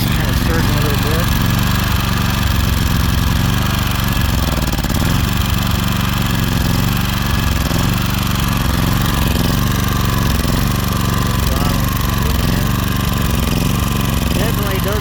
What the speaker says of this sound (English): It's been running about a half an hour now, and it's kind of surging a little bit.